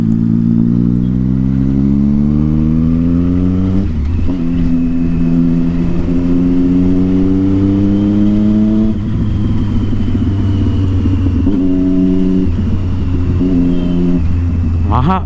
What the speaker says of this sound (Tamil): நான் ஓட்டலைன்னா கூட இங்கே சவுண்டு வருதுடா சாமி,